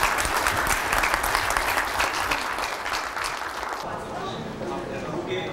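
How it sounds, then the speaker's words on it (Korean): Applause of thanks from an audience at a Korean policy institute event, honouring visiting members of parliament; dense steady clapping fills the room, easing slightly in the last couple of seconds, with murmured voices underneath. "여러분 우리 오늘 와주신 국회의원들에 대해서 감사의 박수 좀"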